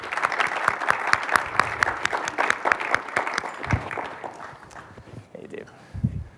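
A plenary audience at the Quantum World Congress applauds a conference speaker, sharp crisp claps for about four seconds that fade out as voices begin talking nearby.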